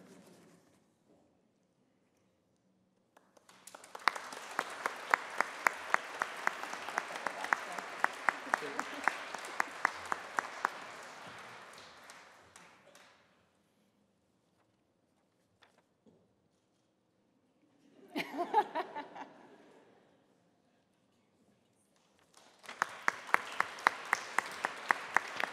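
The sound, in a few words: applause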